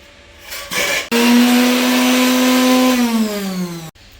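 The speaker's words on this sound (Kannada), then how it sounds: "ಬೇಯಿಸಿರೋ ಸೊಪ್ಪು ಹಾಕ್ಕೊಂಡು ಚೆನ್ನಾಗಿ ನುಣ್ಣಗೆ ರುಬ್ಕೋಬೇಕು" A mixer grinder grinding boiled greens to a fine paste starts with a short burst, then roars in one loud, steady whir that slowly sags in pitch for about three seconds before cutting off abruptly.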